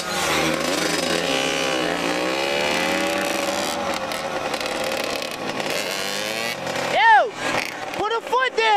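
A Yamaha Banshee ATV engine runs close by with a steady, wavering drone, then climbs into several sharp, loud revs and quick throttle blips near the end.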